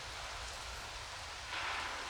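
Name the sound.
rain pouring outside a cathedral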